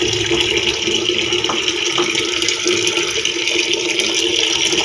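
Tap water runs steadily into a container being filled, a continuous close rushing flow that stays level throughout with no talking.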